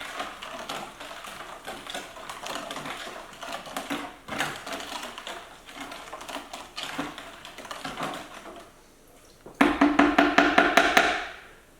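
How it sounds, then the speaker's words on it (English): A spoon stirs sugar into a homemade ginger beer mixture, giving a steady run of quick clinks and scrapes against the container that swell into a louder, faster burst near the end. "Start mixing that sugar up at the bottom."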